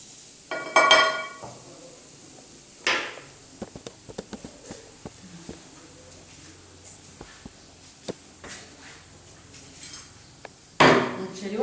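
Metal utensils scrape and clink against a pot while turmeric rice is served, giving scattered taps and a few louder clattering scrapes in a quiet kitchen.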